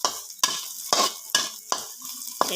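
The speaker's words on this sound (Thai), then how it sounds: "ต่อมาก็มาผัด กระเทียมกับพริกค่ะวันนี้เลยใช้พริกแห้งนะคะ ผัดให้หอมหอม กรอบๆซะก่อน" Garlic and dried chili are stir-fried in a little oil in a pan, with brisk scraping strokes roughly every half second over a soft sizzle, close up and with no voices.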